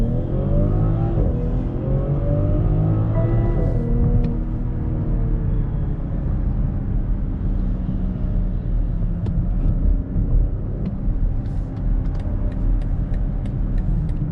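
BMW X7 40i M Sport SUV in sport mode, engine accelerating with a rising rev sweep, then a steady loud road and engine roar with faint clicks near the end.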